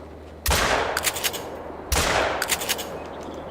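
Two loud, sharp shotgun blasts about a second and a half apart during a duck hunt, each trailing into a rolling outdoor echo, with no voices between them.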